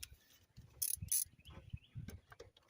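A ratchet with an 8 mm socket tightens an ignition coil bolt on a Ford F-150 Triton engine, giving a few quick ratcheting clicks and rattles close to the mic.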